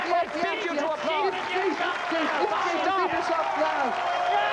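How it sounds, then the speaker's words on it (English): A studio audience at a late-night television talk show applauds, cheers and whoops throughout, and overlapping voices can be heard above the crowd noise. "I forbid you to applaud."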